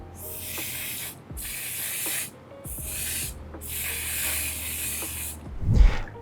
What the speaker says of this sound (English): I'm going to spray some matte setting spray from One Side Beauty